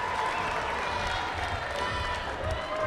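Crowd applause and cheering at an MMA event right after a fighter's introduction, a steady wash of clapping and noise held loud and close throughout.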